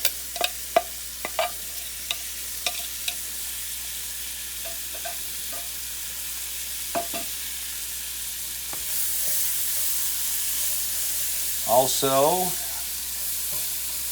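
Onions sizzling in a pan for Polish mushroom soup, a soft continuous fry with sharp clicks of stirring early on, and a brief voice near the end over the sizzle.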